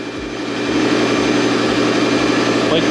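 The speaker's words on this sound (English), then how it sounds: "Got my vacuum." A vacuum cleaner clearing up powder-coating dust runs loudly and steadily, a constant motor roar with a low hum, no voices.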